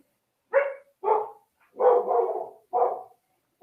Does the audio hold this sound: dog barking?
yes